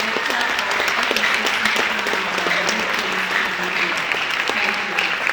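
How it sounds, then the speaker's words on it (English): An audience at a Franco-Namibian Cultural Center event gives a sustained round of applause, dense and even clapping from many hands throughout, with faint voices mixed underneath. "Please give a round of applause to Mr. Martin Bayer"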